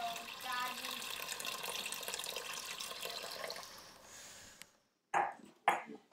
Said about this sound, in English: and then I'm just going to pour in 3 cups of water.